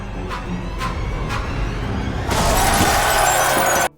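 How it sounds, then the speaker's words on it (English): A glass box is smashed by rebels storming a palace in a TV drama, a sharp loud shatter bursting after a few softer knocks and cutting off abruptly. "The rebels get to the palace Elena resides in, and destroys the glass box."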